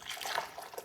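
Hot salt brine for pickled tomatoes poured into a glass measuring cup, a soft close liquid trickle with light splashy dribbles.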